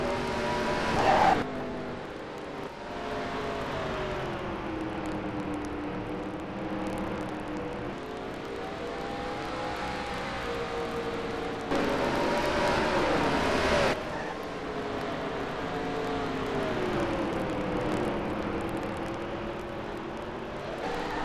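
Racing trucks roar around the oval at Montgomery in a continuous engine drone, with pitch rising and falling as they pass, surging louder briefly midway, under a race caution period.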